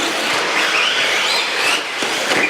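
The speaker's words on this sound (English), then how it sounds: "What is that flying across your screen making a loud buzzing sound? Those are radio-controlled race cars." Radio-controlled race cars on a dirt track make a loud, continuous high-pitched buzzing that rises and falls as they race past nearby, with no talking over it.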